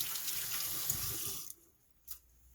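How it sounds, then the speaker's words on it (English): Tap water runs steadily over a hand at a sink while hard contact lens cleaner is rinsed off, then cuts off abruptly, leaving a brief splash or drip before quiet; close and moderately loud, with no talking. "I'm going to rinse my hand off because there's still that cleaner"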